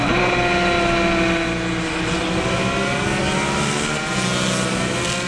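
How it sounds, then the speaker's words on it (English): A GP lightweight racing motorcycle at full speed in a road race, its high-pitched engine howling steadily and loud throughout with no letup. "Jordan Reed making a charge now on the GP lightweight bike"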